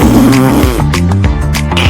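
Comic fart sound effect, loud and close, with a series of buzzy, pitch-shifting blasts over about two seconds and no voices.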